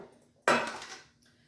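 A single sudden crumbly rustle as a cheesecake base is pressed into a pan by hand, breaking a quiet room for about half a second before fading, with a faint tap following.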